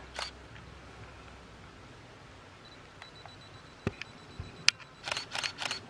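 A single-lens reflex camera shooting at a 10 millimeter focal length in a forest gives several crisp, close mechanical shutter clicks near the end, set against a quiet outdoor hush.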